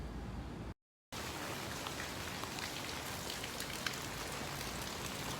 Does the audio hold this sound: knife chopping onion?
no